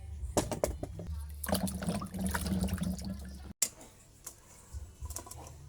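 Cassava roots being washed by hand under running water, with splashing and sloshing in bursts and clattering of the roots, close and fairly loud, briefly cutting out before quieter rinsing continues.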